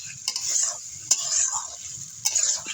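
Shrimp stir-fried in a pan, with a steady bright sizzle underneath three sharp scrapes and clatters of a spatula against the pan, spaced about a second apart.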